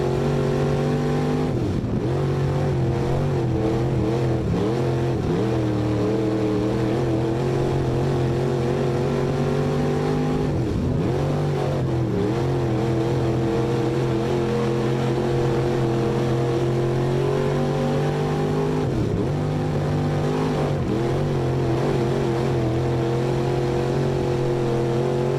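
A race car on the track at Maquoketa Speedway, its engine roaring continuously and close, with repeated dips and surges in pitch as the driver lifts and gets back on the throttle through the turns.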